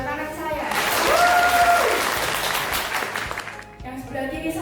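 Audience applause at an MC-led event in Surabaya, clapping swelling after a brief tonal cue and holding under a speaking voice before easing off.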